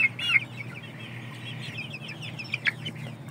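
Indio Gigante and Aseel chickens cluck in short bursts at the start and again near the end, over a low constant background hum.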